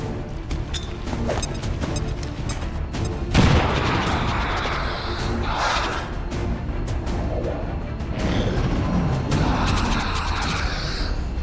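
Bombs detonating in the XCOM 2 strategy game: a dense, continuous barrage of booming, crackling blasts with a heavier impact near the middle, loud and sustained throughout.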